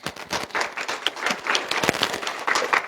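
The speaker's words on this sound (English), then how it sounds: "Give her a round of applause." Audience applause at a public ARPA input session, greeting a state representative: dense, steady clapping from a crowd, fairly close and continuous throughout, with no talking over it.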